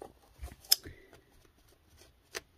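Scissors snip through material for a junk journal tag, a few sharp close cuts with a rustle of paper and fibers between them, quiet and without talk.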